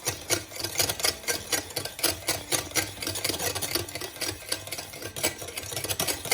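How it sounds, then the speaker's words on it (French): A whisk beats egg yolks with a little cornstarch in a bowl for a thick custard, a fast steady run of close, bright metallic clicks and scrapes with no talking. "On mélange bien."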